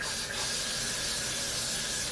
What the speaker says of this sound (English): I'm going to go in with my freeze spray, and I'm just gonna spray this bad boy.